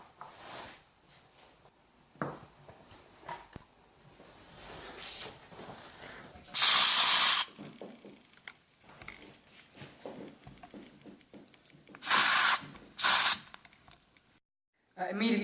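Aerosol contact cleaner blasts into the switches and potentiometers of an old guitar through the underside access panel, in several short, loud hissing bursts separated by quieter handling noise.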